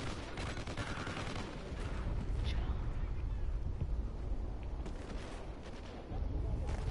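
Trinity rocket strike explosions in a video game, a dense run of booms and gunfire-like bursts that stays loud and continuous throughout, with voices talking over it.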